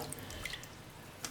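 Beans for a Nigerian bean stew being washed under running tap water in a kitchen, a soft steady trickle with scattered small drips and splashes, quiet and close.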